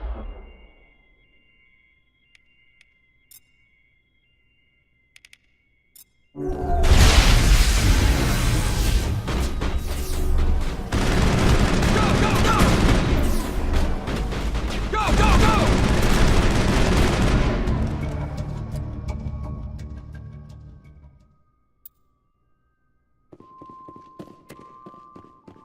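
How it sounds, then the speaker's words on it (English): Sustained bursts of rapid gunfire from a Mass Effect firefight rattle loudly for about fifteen seconds, with occasional booms. It opens near-silent with a few isolated clicks and fades to quiet electronic tones afterward. "Open fire. Open fire!"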